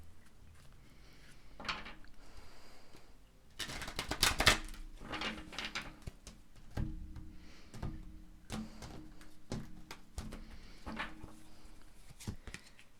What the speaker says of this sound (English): Let's pull your preview card.